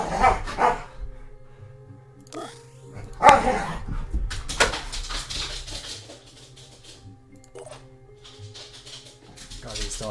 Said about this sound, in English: Dogs are idiots.